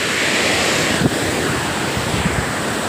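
The Alkudar waterfall gives off a loud, continuous roar of rushing water, a dense, unbroken wash of noise close by with a couple of brief bumps.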